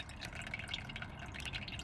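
Rainwater leaking through a damaged roof trickles and drips indoors, a faint, steady patter of small drops with a few brighter plinks, heard alone.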